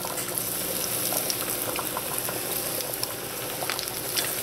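Ackee and saltfish fritters fry in hot oil with a steady, fairly quiet bubbling sizzle and scattered small pops, and no talking.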